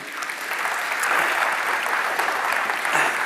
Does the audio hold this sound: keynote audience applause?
yes